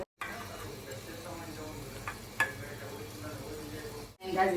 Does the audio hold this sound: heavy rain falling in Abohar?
no